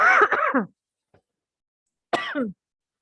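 Two harsh, close coughs from a person getting over a cold, separated by a short silence, each a rough burst lasting about half a second, with no other sound around them.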